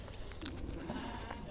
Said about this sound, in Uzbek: Qo'ylar qaranglar.